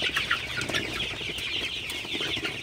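Sonali super hybrid chickens cluck and chatter in a busy flock, close and fairly loud, with overlapping calls throughout and no voices.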